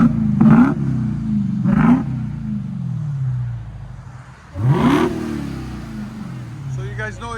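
A Dodge SRT Hellcat V8 engine exhaust roars nearby, a low muscular rumble that swells with three throttle blips, the last one loudest.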